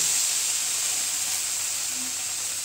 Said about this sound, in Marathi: आता आपण परतून घेऊया.